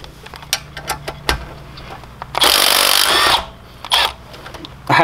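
Impact wrench loosening tight rocker nuts on a 196cc go-kart and mini bike engine during a teardown, one loud sustained burst of hammering lasting about a second, surrounded by clicks and tool clatter in a workshop.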